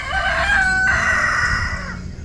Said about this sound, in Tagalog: aking mga alagang mga manok.